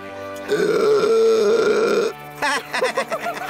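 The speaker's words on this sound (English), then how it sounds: "before letting out a huge burp" A single long, loud, throaty burp lasting about a second and a half, followed by a burst of laughter.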